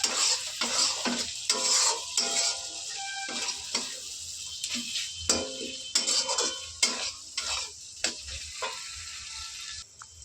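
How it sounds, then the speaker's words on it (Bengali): Turmeric and ground cumin sauté in a pan for ghugni, giving a continuous sizzle broken by quick, rhythmic scrapes and clinks of a spoon stirring against the metal, close and clear, with no one talking. "দেখো এই গুঁড়ো মশলাটা দিয়ে কষিয়ে নিয়েছি।"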